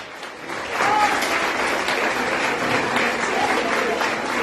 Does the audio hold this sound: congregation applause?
yes